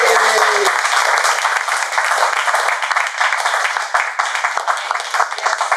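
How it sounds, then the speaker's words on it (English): Loud, full applause from a Toastmasters club audience, dense and close, holding steady for several seconds, with a brief voice at the very start. "let's clap for this audience."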